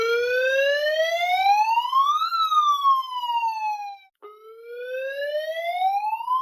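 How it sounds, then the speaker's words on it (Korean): A wailing alarm siren rises and falls in long sweeping tones during an evacuation warning, with a brief break before it starts climbing again, loud and continuous with no talk over it. "경찰 아저씨의 확성기 소리와 함께 경보기가 울렸다."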